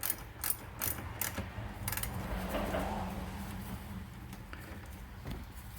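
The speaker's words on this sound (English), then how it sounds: "I can use the regular 10 millimeter socket to do the work." Ratchet wrench turning a 10 mm socket on a Honda car battery terminal, with a close, steady run of rapid clicking pawl ticks over a few seconds, a few sharper clacks near the start, no speech.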